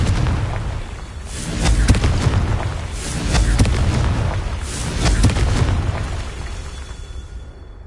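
Repeated Confringo blasting spell explosions in Hogwarts Legacy, several loud booming bursts a second or so apart with rumbling tails, alone without talk.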